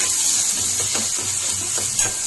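Steady soft sizzling of spinach and onion chili mixture frying in a pan, with faint stirring scrapes over a constant hiss.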